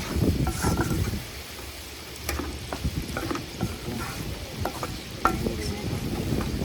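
Vegetables sautéing in a pan for a vegetable roll at a campsite, a steady soft sizzle with scraping stirs and occasional clinks, fairly close and without talk.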